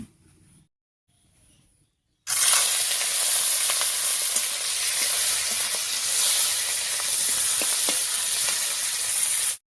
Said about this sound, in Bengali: ফোড়নটা ভাজা হয়ে গেছে, এবার এর উপরে দিয়ে দিচ্ছি কয়েকটা চিংড়ি মাছ।